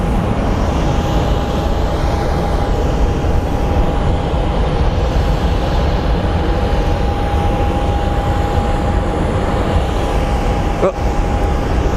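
An airliner at Phoenix Sky Harbor airport produces a loud, steady jet-engine roar with a constant whine, sustained and close throughout the stretch.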